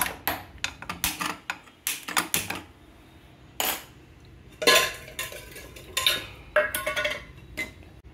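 Metal pan clattering onto a stove, with sharp clinks and knocks of cookware and utensils in irregular bursts, some louder clanks midway, close up and without talking.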